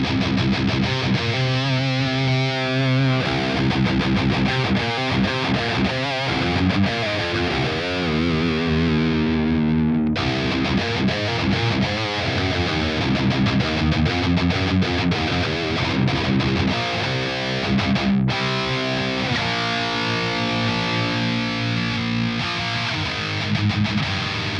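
A heavily distorted electric guitar through the Aurora DSP Kobraa plugin, modelled on the Framus Cobra amp, plays dense, loud, continuous riffing with chugging low notes and brief breaks, sustained throughout with no talking.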